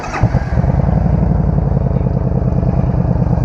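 A 2014 Yamaha Stryker motorcycle's engine starts after a brief crank, then settles into a loud, steady, close-up idle with a lumpy, pulsing rhythm.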